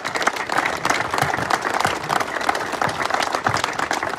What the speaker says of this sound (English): So please give a big round of applause to Mr. Paul DiGiacomo.